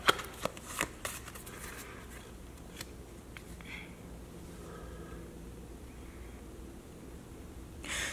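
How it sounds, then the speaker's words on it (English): A small packet of playing cards being shuffled during a card trick, with a few sharp riffles and snaps in the first second followed by a softer continuous shuffling rustle, close and fairly quiet. "take half of this small packet and shuffle it"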